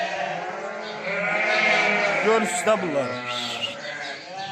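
Lambs from young first-time ewes bleat close by, a loud wavering cry rising and breaking midway, while someone talks over the flock.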